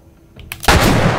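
A single loud gunshot cracks out in The Last of Us, a sharp broadband blast that follows a few faint clicks and leaves a sustained roaring tail.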